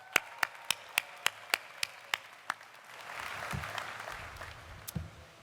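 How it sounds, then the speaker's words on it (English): A commencement ceremony audience at the College of Charleston begins with a handful of distinct, evenly spaced single claps, then swells briefly into a softer, scattered wash of applause before it trails off. "Round of applause for y'all"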